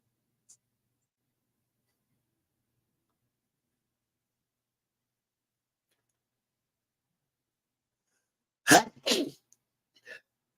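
A single sharp sneeze bursts out close by, followed by a quieter second burst and a faint trailing sound, after a long near-silent stretch.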